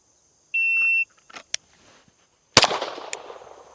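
A Staccato HD P4.5 pistol fires a single loud, sharp shot with a decaying echo, preceded by a shot-timer beep and small handling clicks in an otherwise quiet outdoor range.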